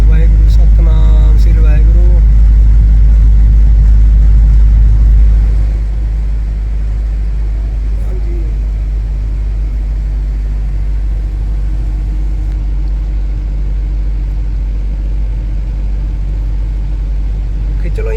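A car's engine hums steadily while driving, loud and close at first and then settling into a lower continuous road rumble; a voice speaks briefly over it.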